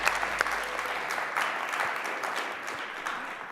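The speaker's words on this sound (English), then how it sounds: "Can we give one round of applause for our contestants?" Audience applause for contestants at a college business pitch competition, a steady wash of many hands clapping from start to finish with no talking over it.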